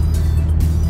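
A Ford Mustang with a V6 engine runs close by, a loud, steady low rumble that holds evenly throughout with no talk over it.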